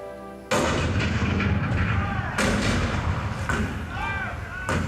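Cannon fire recreating the bombardment of Fort Sumter as an attraction sound effect at Magic Kingdom's Hall of Presidents: a sudden loud boom followed by rumbling volleys and echoing blasts in repeated bursts.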